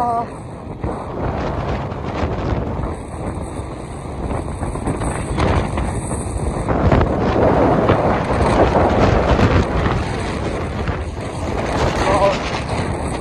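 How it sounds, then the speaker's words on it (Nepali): Strong wind buffets the microphone continuously, a loud rumbling roar with gusty surges throughout. "कस्तो हावा लाग्छ हेर न।"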